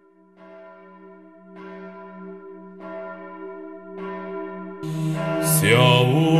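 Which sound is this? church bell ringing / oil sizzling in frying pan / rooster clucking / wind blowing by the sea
church bell ringing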